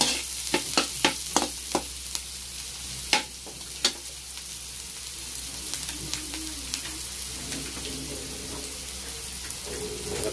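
Dinuguan frying in a pan with ginger, a steady low sizzle running throughout, with several sharp utensil knocks and scrapes against the pan early on, and no one talking.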